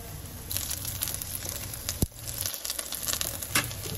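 Ukoy, Filipino shrimp-and-vegetable fritters, sizzle in hot oil, a constant dense crackle and spitting with a sharp pop midway, close and fairly quiet, no voices.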